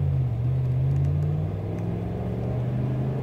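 A 2016 Ram 1500 Sport pickup with a Hemi engine pulls away from a stop sign, its low engine drone rising slightly and steady inside the cab, loud and continuous.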